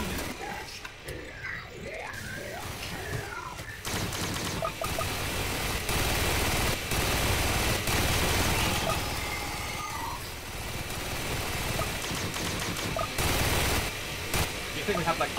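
Gatling gun tower in the Roblox game Tower Defense Simulator, during a Halloween event boss fight, firing in a dense, continuous rattle. The fire is buried in a busy wash of game noise and music.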